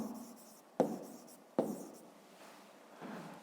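A pen writes numbers by hand on paper: a few short, close scratchy strokes with sharp taps where each stroke starts, in a quiet room.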